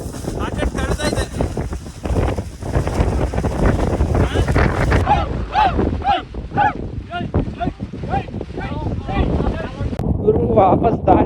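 Strong wind buffets the microphone on a hilltop in Chikmagalur, making a constant heavy roar with gusty swells while people talk through it.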